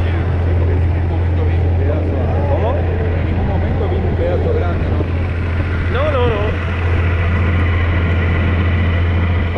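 A tractor engine drones steadily at close range, a constant low mechanical hum underneath Spanish conversation between several people.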